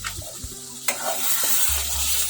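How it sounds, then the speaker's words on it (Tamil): A spoon scrapes and stirs a thick okra tamarind curry bubbling in a pot, with short close clinks and a soft sizzling simmer throughout. "திறந்துக்கலாம். கிண்டி விட்டுக்கலாம்."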